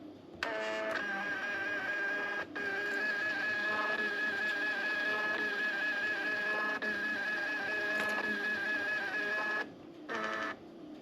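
A small Bluetooth label printer whirs steadily for about ten seconds with a tonal mechanical hum, pausing briefly, then a short final burst of printing.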